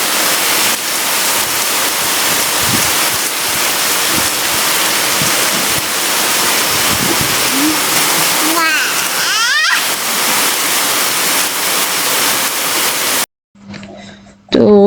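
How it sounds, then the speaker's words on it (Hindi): Steady heavy rain pours down with a dense, continuous hiss for most of the clip, cutting off abruptly near the end. "मेरे ब्रेड बॉल को सपोर्ट करने के लिए बारिश आ गई बहुत।"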